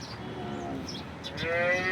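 A local Banaskantha cow lowing on a dairy farm, a low drawn-out moo that rises and swells near the end, close by and fairly loud over faint background noise.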